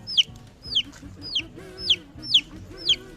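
Baby chicks peep in sharp, high chirps, about six evenly spaced calls over a faint low background, close by and clear.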